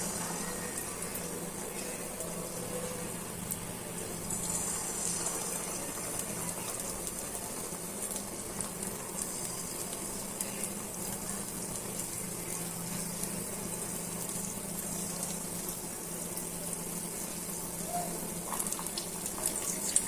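Jackfruit-juice batter frying in hot oil over a lowered flame, giving a steady broad sizzle and bubbling hiss that runs throughout at moderate level, with no one talking.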